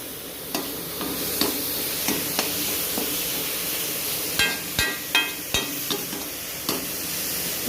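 Vegetables sizzling in a kadai under a constant hiss, with repeated sharp clacks of a spoon stirring and tapping the metal.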